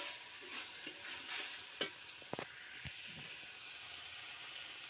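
Green chillies and poppy seed paste get stirred in a pan, a faint low sizzle under a few sharp scrapes and taps of a spatula, quiet and close with no voices.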